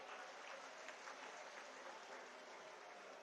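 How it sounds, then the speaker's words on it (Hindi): Steady applause from a large crowd at an outdoor political rally in Delhi, dense and continuous clapping throughout with no pauses. "सबसे पहले जोरदार तालियां अपने लिए बजाइए आप लोग।"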